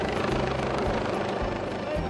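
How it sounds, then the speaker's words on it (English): A helicopter at a fire department fun day for children with special needs gives off a steady rotor drone of moderate loudness, with faint voices in the background. "You get to see a helicopter."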